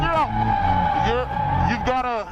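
A car drifting at a track event, its tires squealing in long sustained wails over a revving engine, loud and close, with an instructor's voice talking over it.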